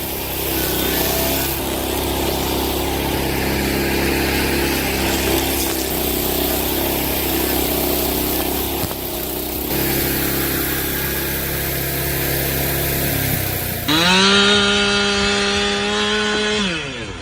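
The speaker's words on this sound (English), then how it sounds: "Using a 13 horsepower engine seems to do the trick perfectly for hardwood stumps." Homemade stump grinder driven by a 13 horsepower engine cutting into a hardwood stump, a loud continuous engine drone with grinding that shifts in pitch and load, then a sharp change to a higher whining rev near the end; no talking.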